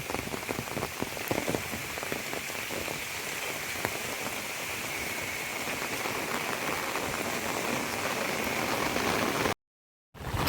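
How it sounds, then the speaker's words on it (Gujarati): Steady heavy monsoon rain patters on surfaces at a farm, a dense continuous hiss of drops close by, broken once by a brief moment of silence near the end. "વરસાદ ચાલુ"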